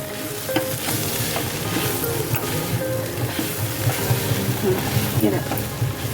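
Water is poured into a pan of sautéed phagla leafy vegetable with grated coconut, bringing up a loud, dense sizzle and bubbling with occasional utensil clinks while a voice speaks over it.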